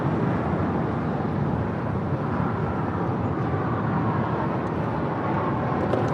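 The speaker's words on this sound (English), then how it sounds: "That is Atlas Air 8829 departing to Fairfield Travis Air Force Base, the 747-400 freighter." Atlas Air Boeing 747-400 freighter departing, a broad, steady engine roar that holds loud and even throughout, heard from a distance with no voices.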